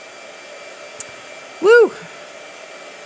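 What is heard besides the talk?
blow dryer running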